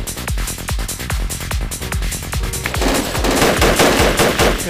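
Rapid machine gun fire rattles through a firefight in the military shooter game Project Reality, loud and close, with dense sustained bursts that thicken toward the end.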